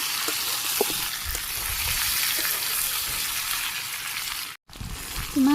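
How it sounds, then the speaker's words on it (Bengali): Meat and spices sizzling steadily in a hot pan, a continuous loud frying hiss with faint stirring clinks, briefly cut off before resuming. "মাংস আর মশলা আবারও কিছুক্ষণ কষানো।"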